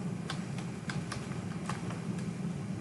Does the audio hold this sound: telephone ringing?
no